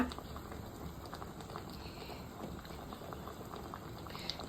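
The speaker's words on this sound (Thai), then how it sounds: "ตุ๋นไปอีก 10นาทีค่ะก็สามารถทานได้แล้วนะคะ" Japanese beef curry with plenty of vegetables simmers in a pot after the curry roux has melted in, a quiet, steady bubbling and popping close up with no voices.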